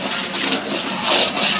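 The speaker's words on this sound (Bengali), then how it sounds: "এখন কিন্তু অল্প একটু পানি দিয়ে দিলেন।" A little water is poured into a pan of chicken curry masala during restaurant-style cooking. It makes a steady, close splashing hiss with no talking over it.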